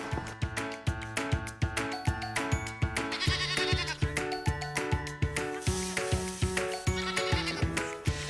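Goat kids bleating in quick, steady succession, loud and close, with layered calls repeating in a regular rhythm and no talking.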